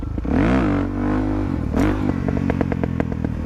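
A motorcycle engine revving hard during a wheelie, a loud sustained roar that rises and falls in pitch, then settles into a rapid, pulsing rumble up close with no talking over it.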